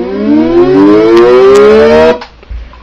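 Siren sound synthesized in Audacity, a loud civil-defense style wail holding a steady pitch and rising slightly before cutting off abruptly, followed by a faint low thump.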